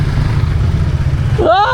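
Several motorcycles rumble at idle with a steady low engine drone throughout, close by at a riverside boat launch, while a voice speaks briefly near the end.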